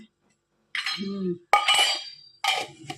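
Tiffin box lid clinking while lunch boxes are packed in a home kitchen, with a few sharp metallic clinks and rattles in separate bursts after a short silence.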